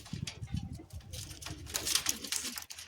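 Caged Madrasi high-flying pigeons, a male and a female pair, give soft throaty coos mixed with wing flutters and scratchy patter, close by and unaccompanied by speech.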